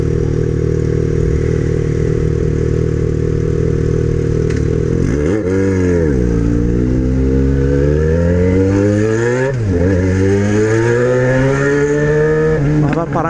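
A Yamaha XJ6 motorcycle with a loud exhaust rides through town, its engine note rising and falling through several revs and gear changes, close and loud throughout, with a rider talking over it.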